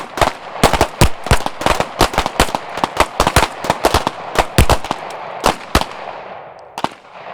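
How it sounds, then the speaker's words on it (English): Gunfire at a shooting-while-moving competition event, a fast series of sharp, loud cracks in irregular bursts, close to the shooter, tapering off near the end with no talking. "We're going to run through a few magazines. Ready? 3 rounds while it's moving."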